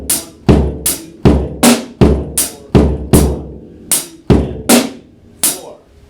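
A drum kit beat played during a drum lesson at a drum shop, with sharp repeated hits in a steady rhythm: crisp bright strikes over punchy low thumps, loud and close, with no talking.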